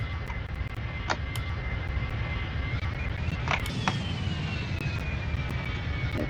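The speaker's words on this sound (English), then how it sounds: "slightly odd noises for engine startup" Engine startup on an Airbus A321 in the Extreme Landings flight sim: a continuous loud roar with a slowly sweeping turbine whine, plus a few brief clicks, with no talking.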